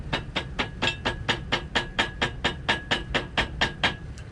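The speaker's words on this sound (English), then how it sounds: "We're going to go ahead and hammer that in." Tack hammer tapping on a leather boot seam while a gusset goes into calf-high boots, about sixteen quick, even, sharp taps in a steady rhythm, close and with no talking.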